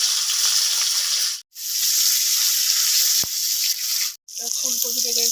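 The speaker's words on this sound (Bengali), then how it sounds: "ফুলকপিটাকে পুরো আমি লাল লাল করে ভেজে নিয়েছি।" Cauliflower pieces frying in hot oil for a Bengali-style egg dish, a loud continuous sizzle broken by two brief gaps, with a clink near the end.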